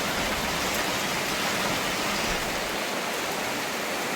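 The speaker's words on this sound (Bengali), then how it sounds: "বেশ বৃষ্টি হচ্ছে, ঠান্ডা হলো চারপাশটা।" Heavy rain falls around a small trawler moored among trees, a steady, dense hiss that holds evenly from start to finish with no voices.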